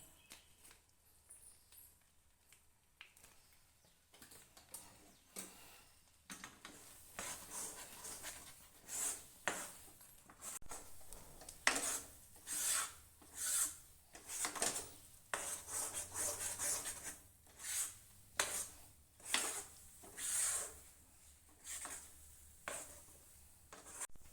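Ghee-based Tiruchendur prasadam stirred in a pan: repeated scraping and rubbing strokes of a spoon against the metal come in a fairly regular rhythm, close and moderately loud.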